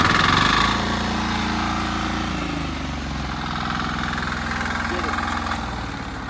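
A diesel engine fitted with an emergency stop switch starts and settles into a steady, close idle, its deep rumble throbbing evenly throughout while voices murmur faintly underneath.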